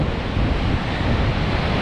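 Ocean surf on the Outer Banks rolls in as a steady, loud wash of breaking waves mixed with wind noise, continuous with no speech.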